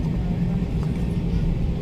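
A passenger flight from Lucknow landing at Bangalore Terminal 1 at night, heard as a steady, enveloping low engine and cabin roar with no clear changes across the short stretch.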